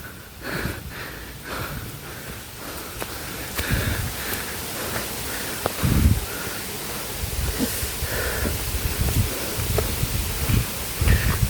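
Strong wind on Gunung Sembung mountain roars steadily and buffets the microphone, with gusty rustling surges throughout and no speech.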